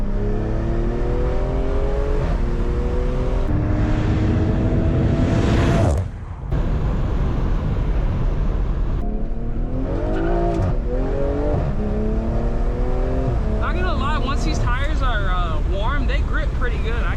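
A stage 2 tuned BMW M340, 500 hp, revving and accelerating past a fixed camera on a road, a loud, sustained engine note with rising pitch sweeps and a brief dip, then further throttle pulls and tire noise.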